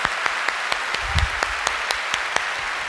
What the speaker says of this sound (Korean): 큰 박수로 한번